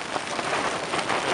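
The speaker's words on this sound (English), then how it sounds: "I just hope this bloody rain blows over." Heavy rain driven by strong wind pelts a Terra Nova Laser Competition tent at a mountain wild camp on Skiddaw in the Lake District at night, a loud, unbroken, dense hiss with no pauses.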